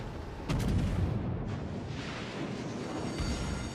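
Naval gunfire and shell hits in World of Warships, involving the Tenryu and Bellerophon, a deep booming blast followed by continuous rumbling battle noise and further thuds, loud and with no voices.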